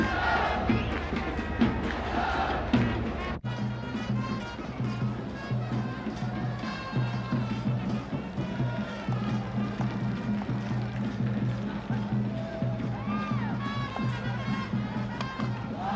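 A crowd of about 15,000 spectators at a 1996 World Cup cricket match between Sri Lanka and Kenya cheers and applauds in the stadium, a broad, continuous roar beneath commentary.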